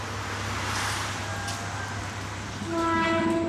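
A real train passing close on railway tracks, with a steady rumbling roar of wheels and cars throughout and a sustained horn-like tone rising near the end.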